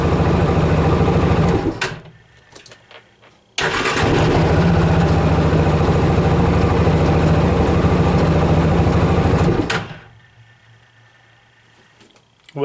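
The engine of a Yamaha Rhino side-by-side, its ignition just rebuilt and cleaned, catches and runs loud and steady for several seconds, then cuts off. Quieter stretches before and after carry low mechanical noise.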